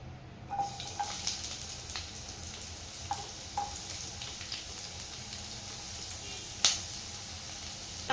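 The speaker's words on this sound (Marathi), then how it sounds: "तेल इथे गरम झालेले आहे, त्यामध्ये उभा चिरून घेतलेला कांदा घालून घेते" Sliced onion goes into hot oil in a kadhai and fries with a soft, steady sizzle, broken by a few faint clicks and pops, including one louder crackle near the end.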